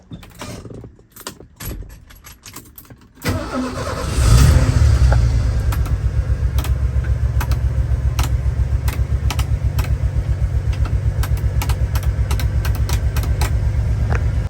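A 1987 Ford F-150 pickup engine cranks and catches, rises into a loud rev, then settles into a steady rhythmic idle with ticking mechanical pulses, close up and without talk.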